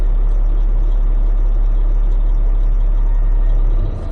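A Cat 627G scraper's engine idles at lowered revs, a loud, steady low-frequency diesel rumble that holds constant before easing off at the very end.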